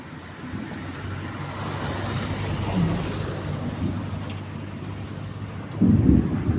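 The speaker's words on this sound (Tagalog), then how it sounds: "panay kulog at kidlat." Stormy weather with low, rumbling thunder rolling beneath steady wind buffeting the microphone, swelling slightly midway and rising to a stronger gust or rumble near the end.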